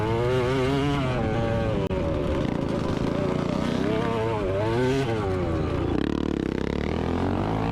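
A four-stroke motocross bike engine on a dirt track blares close and loud, its pitch rising and falling in repeated throttle blips and surges, with other engine noise mixed in.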